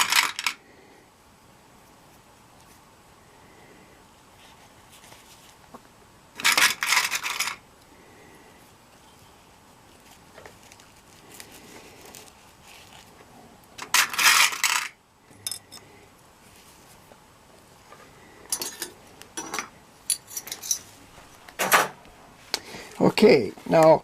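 Sewing clips snapping onto a black fabric-and-leather moccasin seam, sharp isolated clicks and rustles scattered across quiet handling, with a person talking between them.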